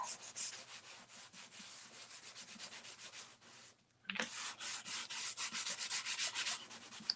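A quiet, scratchy rubbing sound comes from finishing surface wax being wiped onto a painted surface in quick back-and-forth strokes. There is a brief pause near the middle before the rubbing resumes, and nobody speaks.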